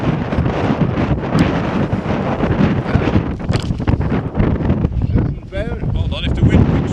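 Wind rumbles and buffets the microphone on a canal bank during a fishing match, a loud continuous roar with gusts, while people talk over it.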